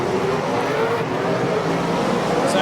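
Race cars at Meeanee Speedway thunder past in a steady, loud engine roar with rising and falling revs, close and continuous, a brief high squeal near the end.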